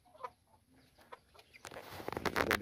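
Chickens cluck in short, scattered calls, faint at first, then busier, louder clucking and rustling close by toward the end, with no one talking.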